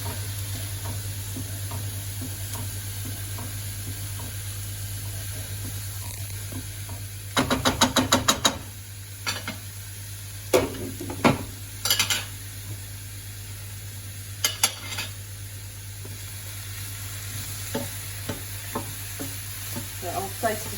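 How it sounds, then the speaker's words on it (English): Vegetables for pumpkin katsu curry char in a hot pan with a steady low sizzle, broken by a few sharp clatters and stirring knocks of a utensil against the pan. "It just looks so beautiful, in my opinion, when you char vegetables like this."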